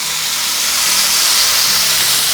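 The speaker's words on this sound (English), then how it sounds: "Now the next thing we're going to do here is add the sliced mushrooms" Sliced mushrooms added to a skillet with olive oil for creamy garlic chicken, giving a continuous dense hiss of sizzling that stays fairly loud and even, with no one talking.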